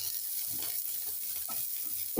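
Chopped onion frying with green chillies in a pan, a steady soft sizzle with occasional stirring scrapes, close and continuous.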